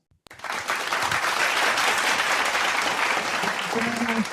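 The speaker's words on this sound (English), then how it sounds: "Let's give her a big round of applause." Loud, sustained applause from an audience welcoming a program director at a special welcome event in the Philippines, a dense wash of clapping that swells in after a brief pause and holds steady to the end.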